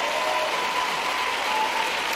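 Sustained applause from members of Congress filling the chamber during a State of the Union address, a steady dense wash of clapping heard from a distance with no break.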